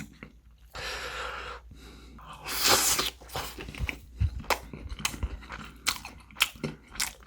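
Crispy fried chicken with sauce being bitten and chewed up close, a loud crunch followed by repeated wet, crackling chews and occasional breaths, no talking.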